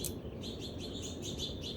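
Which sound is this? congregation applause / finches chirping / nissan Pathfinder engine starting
finches chirping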